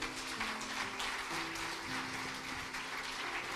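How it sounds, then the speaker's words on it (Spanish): A church congregation applauding after a sermon at an international healing congress, a steady, faint wash of clapping from many hands that continues without a break. "Denle un fuerte aplauso."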